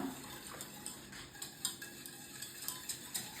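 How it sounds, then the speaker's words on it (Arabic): Sugar, 500 grams of it, being stirred in a pot of water with a spoon, giving soft repeated scraping clinks against the metal at a steady rhythm, close and fairly quiet. "نزيدو نديرو 500 غرام سكر، نحركوه مليح"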